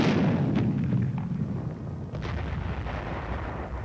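Booming weapon fire at an army training range with a .30 caliber machine gun and a recoilless rifle, heavy low blasts rolling under steady background noise, a few sharper reports standing out.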